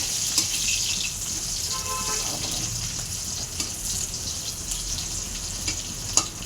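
Chopped onions fry gently in a pan, giving a soft, steady sizzle with occasional light clinks and stirring noises, and no talking over it.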